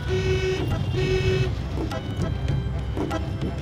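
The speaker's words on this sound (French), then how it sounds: "Klaxonne, garde l'accélération, ne freine pas." Repeated short car horn toots sound over a steady engine drone as a learner driver accelerates during a driving lesson, close and continuous with brief gaps between blasts.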